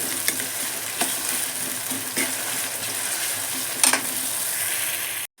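Onions sliced for a fish curry sizzle steadily in hot oil, a continuous close frying hiss with a few soft stirring clicks, then stopping abruptly at the end.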